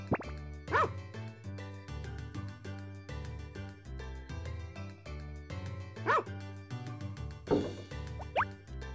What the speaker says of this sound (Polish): Piesku, chodź tu.